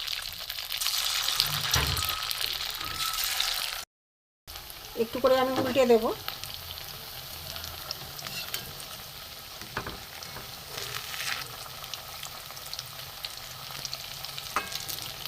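Flattened-rice chop patties fry in hot oil in a wok, a steady close sizzle that flares briefly as they are turned, with someone speaking softly over it partway through.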